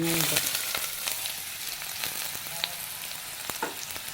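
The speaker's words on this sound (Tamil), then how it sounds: "இப்போ இந்த வெங்காயம் கட் பண்ணி வச்ச" Chopped onions frying in hot oil with cinnamon and cloves for a Tamil mushroom gravy, giving a steady close sizzle with scattered sharp pops and crackles throughout, no voices.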